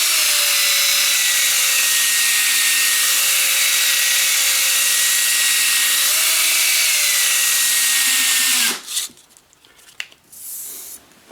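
A loud, steady whine of a spinning power tool sanding a wooden dowel, with a harmonic hum, which shifts pitch briefly, then stops abruptly, leaving faint rustling.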